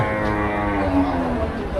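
Cattle at the Melapalayam cattle market, where rekla racing bulls are brought in, give a long close moo over a busy background.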